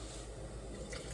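Thick homemade blueberry jam being poured into a jar, a soft continuous liquid pour with faint trickling and dripping, close by and steady for about a second.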